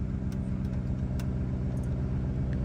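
A Lamborghini Urus in Corsa mode, its engine holding a steady, close, deep rumble with no distinct rev spikes, heard from inside the car.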